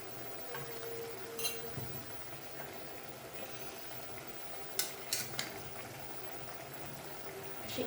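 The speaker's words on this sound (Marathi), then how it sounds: "भाजीला आणखीन चव आणण्यासाठी पण वरून एक पळी तेलाची धार सोडणार आहे" Oil trickled over methi (fenugreek) bhaji in a pan on the gas gives a faint, steady sizzle, with a few soft clicks and stirring knocks near the end.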